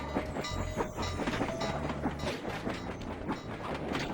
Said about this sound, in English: watch out for the trains, because they will kill you